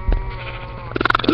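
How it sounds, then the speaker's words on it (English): A sheep in a video game gives a short, close bleat over game background sound, with a few quick pulsing tones near the end. "Oh no! There's a sheep!"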